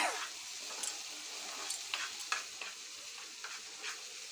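Chili paste fries in a pan with a little added water while being stirred for a Bengali fish curry. A steady soft sizzle runs throughout, broken by repeated sharp scrapes and clicks of the spatula.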